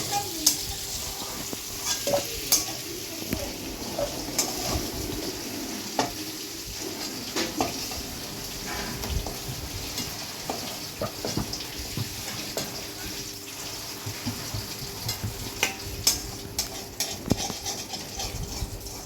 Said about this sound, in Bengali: ওই মশলাটা কড়াইতে তেলের উপর দিয়ে দেবো